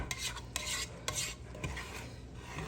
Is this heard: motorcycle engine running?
no